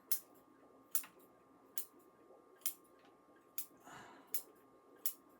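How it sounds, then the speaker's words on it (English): Root scissors snip through a potted bougainvillea's roots during repotting, giving about seven sharp, crisp clicks at a steady pace, close and quiet, with a faint rustle midway. "root scissors and just clip away there"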